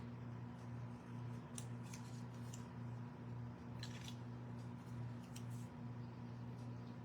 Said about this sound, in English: These little piddly scissors are, they're like the perfect fussy cutting scissor, I think.